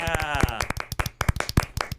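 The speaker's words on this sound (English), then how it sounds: "I'm going to give you your very own golf clap" A small group giving a sparse golf clap after singing happy birthday, a dozen or so light, separate hand claps in an uneven rhythm, close by, with a voice humming briefly at the start.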